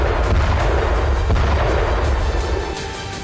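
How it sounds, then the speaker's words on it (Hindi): An M777 ultra-light howitzer fires 155 mm rounds. The booming blasts blur into a continuous, heavy rumbling roar that stays loud throughout and eases slightly at the end. "M777 अल्ट्रा लाइट होवित्जर, इनमें से हर एक धमाका 155 mm कैलिबर की तोप का है।"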